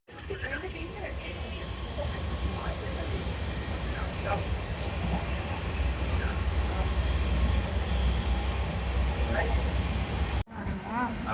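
Train running as heard from a window seat inside an Indian passenger carriage, a loud continuous low rumble with rattles and faint scattered voices in the background throughout.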